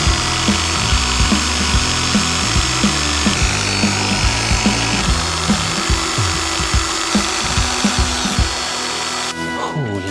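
A power drill grinds steadily into a metal Land Rover Defender wheel hub, a continuous low-speed whir with repeated catches and surges, loud and close throughout.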